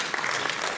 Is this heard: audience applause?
yes